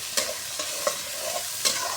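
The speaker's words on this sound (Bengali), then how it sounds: "তো পেঁয়াজটা ভেজে নিচ্ছি।" Onions fry in a pan with a steady close sizzle, punctuated by a few sharp scraping clicks as a spatula stirs them.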